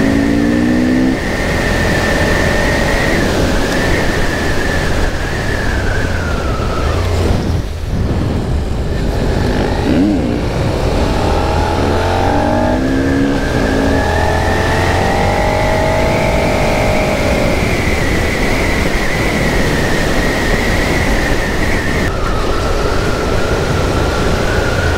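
A car drives on a road with a loud, close engine drone that runs continuously, its pitch rising and falling with speed and no talking over it.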